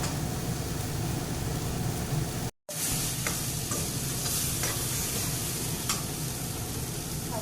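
Frying in a pan for a hilsa fish and eggplant curry makes a loud, continuous close sizzle and crackle, broken by one very short silent gap partway through, with no voices.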